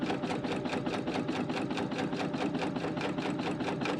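A Bernina L890 stitches along a quilt edge in a fast, even mechanical chatter, each needle stroke a distinct tick in a steady close rhythm with no pauses or talking.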